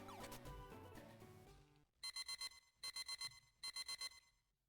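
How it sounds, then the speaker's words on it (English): Rocket pager beeping in Pokémon FireRed: after a short burst of game music, three groups of rapid electronic beeps, each a tight run of about four pulses, play clearly with brief pauses between. "The rocket pager's beeping."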